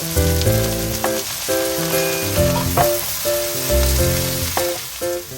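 Minced garlic and bellflower root stir-fry in perilla oil, a continuous bright sizzle running beneath loud melodic background music, with no talk.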